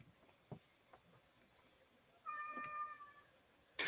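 A cat meows once in a clear, drawn-out call, fairly close, after a few faint knocks and a quiet room; a short sharp noise cuts in at the very end.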